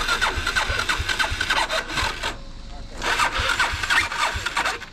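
A motorbike engine cranks and fires with rhythmic low chugging bursts, pauses briefly, then sputters and turns over again nearby, with people talking over it.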